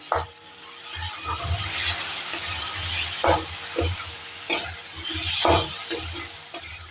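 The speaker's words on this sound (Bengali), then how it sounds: "পোস্ত ভাজতে বেশিক্ষণ সময় লাগে না" Poppy seed paste sizzles steadily in a hot pan over high flame while a spoon scrapes and stirs in uneven strokes, several sharper clanks standing out near the end.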